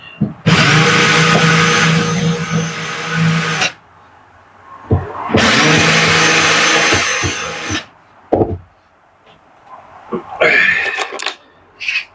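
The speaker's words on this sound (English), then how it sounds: "use the countersink bit, not so it gets rid of the screw heads, but it's to stop the timber from splitting" Power drill with a countersink bit boring into timber, two loud whirring bursts of about three seconds each, separated by clicks and handling knocks, then shorter rattling sounds.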